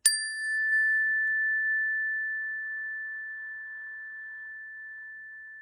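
A single bell is struck once, giving a clear bright ding that rings on and slowly fades over several seconds.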